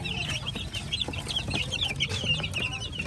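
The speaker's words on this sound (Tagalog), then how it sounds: "ito na yung mga manok natin na pinili." A flock of chickens clucks and chatters continuously nearby, many overlapping short calls over a low background rumble.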